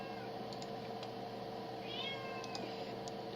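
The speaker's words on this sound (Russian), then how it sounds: "за меня просто кошка мяукает" A cat meows softly, a short faint cry heard near the middle, over a steady indoor background hum.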